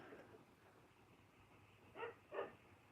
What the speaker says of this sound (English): Oh, you guys can hear my dog.